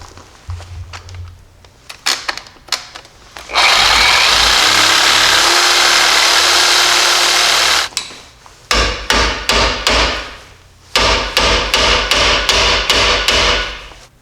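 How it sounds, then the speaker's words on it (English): A hammer strikes a chisel against a leaf spring bushing, sharp metallic blows in quick irregular bursts, broken up by several seconds of a steady loud hissing power tool in between, all close by. "That way we should be able to hammer and chisel the rest of the bushing out."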